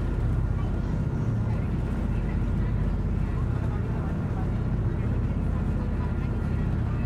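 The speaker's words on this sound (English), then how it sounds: "Engines are revving up to speed now." Engines of the SuperCat fast ferry St. Jhudiel heard from onboard, a dense, loud, steady low rumble and hum with no clear change in pitch across the stretch.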